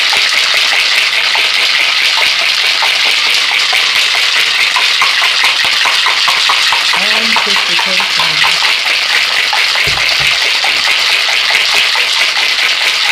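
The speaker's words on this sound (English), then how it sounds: "Stirring up my lemon drops" Ice rattles and swirls as a lemon drop cocktail is stirred, a steady, dense clinking wash that runs throughout, loud and continuous with no pauses.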